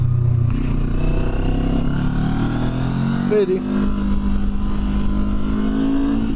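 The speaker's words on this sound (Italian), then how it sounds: "Finalmente uno scarico che si sente" The exhaust of a QJ Motor SRT 700X motorcycle revs loud and close, rising and falling in a steady roar, while a voice speaks briefly over it.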